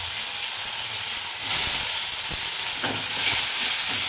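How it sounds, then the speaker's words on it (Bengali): Vegetables and tomatoes frying on a low gas flame in a thin kadai give a steady, close sizzle and hiss, with a few soft stirring scrapes and no talk. "দিয়ে এটাকে ভালো করে লো ফ্লেমে এটাকে ভাজতে হবে"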